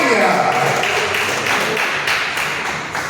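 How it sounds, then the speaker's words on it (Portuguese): Church congregation clapping and applauding together in a full, steady wash of hand claps, fairly loud and close, slowly tapering off over a few seconds. "Agora eu te convido a dar a mais forte salva de palmas ao Senhor Jesus"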